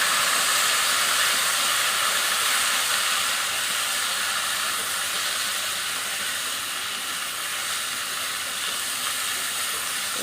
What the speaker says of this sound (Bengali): আলু কটা ভাজা হয়ে গেছে, এবার ডাঁটা কটা ঢেলে দিলাম।